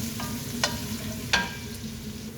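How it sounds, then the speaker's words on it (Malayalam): Chopped garlic and onion fry in oil in a pan, giving a steady, soft sizzle. A couple of brief stirring scrapes cut through, and no one speaks. "വെളുത്തുള്ളിയും ഉള്ളിയും കട്ട് ചെയ്തിട്ട് അതൊന്ന് നല്ല മൂത്ത് വരണം, ചുവപ്പ് കളറായിട്ട് വരണം."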